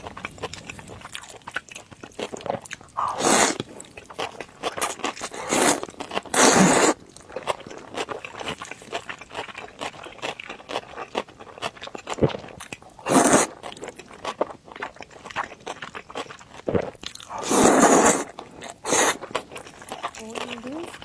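Someone eats cold noodles in sesame sauce with gluten pieces, making close, wet slurping and chewing sounds with repeated loud bursts spread through the clip, and a voice talks softly between mouthfuls.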